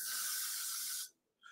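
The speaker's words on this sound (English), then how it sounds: "I'm also gonna apply the Gots2B spray" Got2b hair spray being sprayed in a loud continuous hiss for about a second, a brief pause, then a second short burst close to the microphone.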